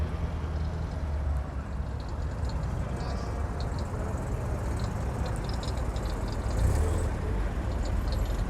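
A Citroën car makes odd, rumbling noises at an outdoor centenary gathering at La Ferté-Vidame, France, over a steady bed of engine and crowd noise that swells briefly near the end.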